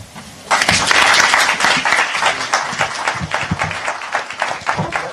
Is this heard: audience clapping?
yes